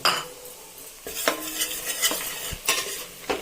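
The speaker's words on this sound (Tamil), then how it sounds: "இப்போ ரவையை போட்டு வறுத்துக்கலாம்" Semolina (rava, 1/4 kg) dry-roasting in a pan over slow-to-medium gas, a spoon repeatedly scraping and stirring the grains with soft clinks of metal on the pan, close and fairly quiet, no voices.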